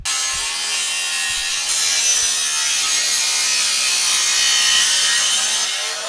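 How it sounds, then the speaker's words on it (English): Saw cutting through the exhaust pipe of a 5th gen Toyota 4Runner during a rear bumper install, a loud continuous rasping grind that runs steadily throughout with slight rises in intensity. "we're going to go ahead and cut the exhaust off right there."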